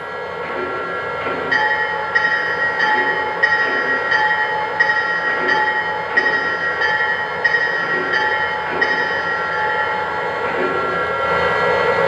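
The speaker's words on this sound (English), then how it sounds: "Next, let's check out the bell." Bell of a Lionel Union Pacific FEF-3 #844 model steam locomotive, a steady run of evenly spaced metallic dings ringing over a continuous background hum, moderately loud and alone.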